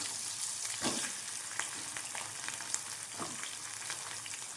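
Small shallots frying in hot oil with fennel seeds for a black chickpea kulambu, a steady close sizzle with a few soft stirring scrapes and sputters, no talking.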